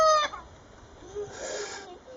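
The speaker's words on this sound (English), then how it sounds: "that teenage rooster trying to crow up a storm." A young rooster crows nearby in a short, wavering, cracking call that trails off, with faint background noise around it, near a chicken coop converted from a storage shed.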